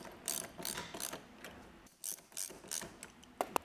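A ratchet tightens bolts on a rooftop tent mounted on a Toyota 4Runner, giving quick, close clicking bursts in an uneven rhythm with short pauses between strokes.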